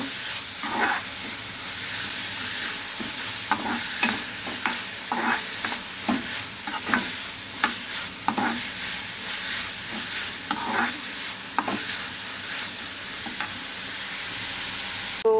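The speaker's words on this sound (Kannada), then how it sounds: "ಸೊ ಇದನ್ನು ಚೆನ್ನಾಗಿ ಈಗ ಫ್ರೈ ಮಾಡ್ಕೊಳ್ಳೋಣ" Masala pulao ingredients sizzle in a hot pan while a spoon scrapes and stirs them in irregular strokes, soft clacks punctuating a constant fry hiss, close by with no talking.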